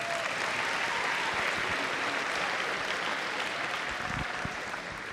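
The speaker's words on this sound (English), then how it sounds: "let's give a round of applause for him" A high school senior awards crowd gives the superintendent a round of applause, dense continuous clapping filling the room at an even level for several seconds with no speech over it.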